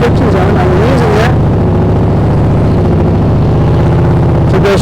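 A motorcycle creeping away slowly with the clutch slipped in the friction zone: a loud, steady engine drone close by, with a voice talking over it at the start and end.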